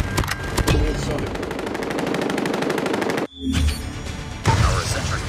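A sentry gun firing in Call of Duty Mobile, loud rapid sustained automatic bursts in a steady rattling rhythm, breaking off briefly before resuming, with game voices calling out over the gunfire.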